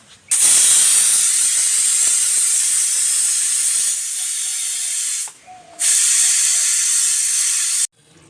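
A pressure cooker of mutton curry vents steam after its whistles with a loud, continuous close hiss that drops briefly about two-thirds through, then resumes before cutting off.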